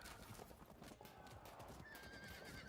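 Horse hooves clip-clopping with neighing and whinnying from cavalry and horse archers in the Field of Glory 2 video game, a quiet, steady game soundscape with a faint voice now and then.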